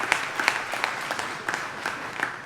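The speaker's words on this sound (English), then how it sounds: "so they deserve a round of applause." A large audience at the Mercer County State of the County address breaks into applause in a hall, a steady wash of many hands clapping with scattered sharper claps standing out, fairly close and continuous throughout.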